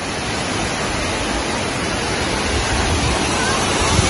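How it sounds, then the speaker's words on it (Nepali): A waterfall in a dangerous spot, roaring as a loud, continuous broadband rush that stays steady throughout, with no clear voices over it. "झरना हेर्ने गाइ, झरना यही हो हाम्रो झरना."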